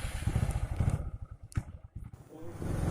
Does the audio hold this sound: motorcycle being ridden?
yes